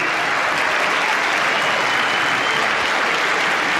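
Applause in the House chamber after a speech: a continuous, dense wash of clapping from a large crowd, steady and loud throughout with no break.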